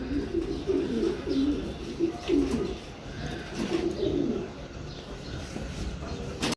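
Racing pigeons cooing nearby, repeated low throaty coos in soft rhythmic phrases over steady background noise.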